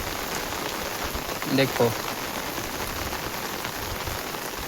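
Steady rain falls on surfaces in a village, a dense constant patter throughout, while a voice speaks briefly partway through.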